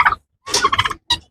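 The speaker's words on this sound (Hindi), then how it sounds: "तो ये केज के अंदर टर्की है, तो ये दोनों ही टर्की और लड़ने के लिए तैयार है" Turkeys gobble inside a cage on a rooftop, a loud close burst of rapid warbling calls followed by a shorter gobble after a brief pause.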